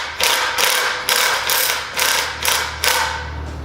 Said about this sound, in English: Now I'm using an impact gun here.